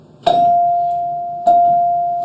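Two bright metallic bell-like tones from the metal bars of a carillon practice keyboard, struck about a second apart, each ringing out and slowly decaying.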